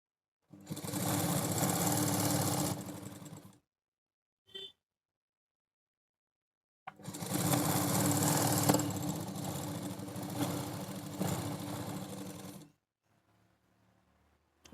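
Sewing machine stitching a blouse strip, two long loud bursts of fast, even motor-driven stitching broken by a short pause and a brief tap, with a faint rustle at the end.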